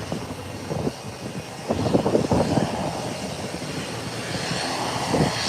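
A fixed-wing passenger airplane takes off at Howard Hamilton International Airport, its engines a steady, broad roar that swells slightly and holds throughout, heard from a distance outdoors.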